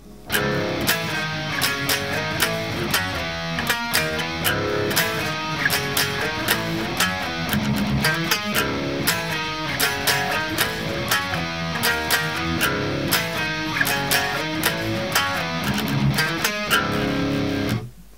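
A driving electric guitar chorus riff with tight, chugging palm-muted strums and steady rhythmic accents, dense and continuous, with no voices.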